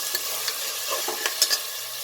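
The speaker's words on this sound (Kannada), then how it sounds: "ಇದೊಂದು 5 ನಿಮಿಷ ಒಂದು 2-3 ನಿಮಿಷ ಬೇಯಲಿ, ಇದು ಫ್ರೈ ಆಗಲಿ." Avare kaalu (field beans) sizzling in oil with onion in a pan, a soft steady fry broken by scraping stirs of a spoon, close and quiet with no talk.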